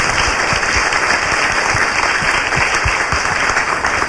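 An audience applauds at a talk event, dense even clapping from many hands held steady and fairly loud throughout.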